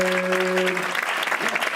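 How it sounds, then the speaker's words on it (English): Audience applause welcoming a hoop dancer at a Native cultural showcase, a brief burst of clapping as a sustained tone fades out. "Please give her a warm round of applause."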